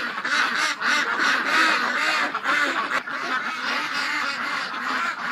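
A dense chorus of ducks quacks continuously and loudly, many birds calling over one another at close range.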